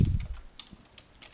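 A few scattered, soft computer keyboard taps sound close and quiet while a formula is entered in an Excel spreadsheet, with no talking.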